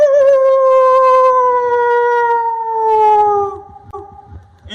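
A human voice imitates a wolf howling in a forest, one long sustained howl that slowly falls in pitch, loud and close, then fades into a few short fainter sounds.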